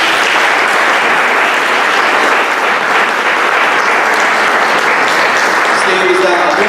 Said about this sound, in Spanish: Gracias, un aplauso por Steve